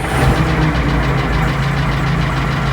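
Steiger Bearcat tractor engine idling steadily nearby, a loud continuous low rumble with a faint rhythmic knock, no voices over it.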